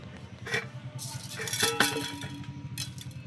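A cooking pot is handled and covered with its lid, producing scattered metallic clinks and clatters close by, with voices talking in the background.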